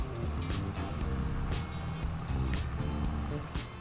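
Fendt tractor engine idling in Farming Simulator 22, a steady low mechanical drone with harmonic hum, punctuated by repeated short clicking or ticking bursts, with no speech over it.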